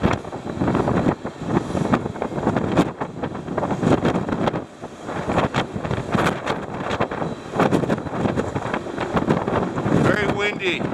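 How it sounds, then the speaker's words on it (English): Strong gusts on a cruise ship deck buffet the microphone with heavy rumbling wind noise throughout, and a person talks intermittently beneath it. "Man, it's windy out here."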